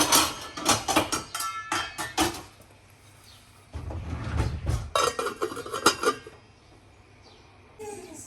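Metal clanks and clatters of a lid being handled and set on a pot of fish head curry with seer fish head, several sharp knocks in a burst, then a scraping rattle and a quieter stretch.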